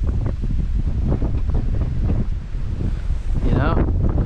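Strong wind buffets the microphone beside a river in St. Marks, Florida, loud rumbling gusts that surge and pulse throughout, with a faint voice partly buried under the roar.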